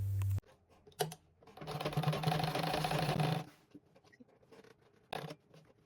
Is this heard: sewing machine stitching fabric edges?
yes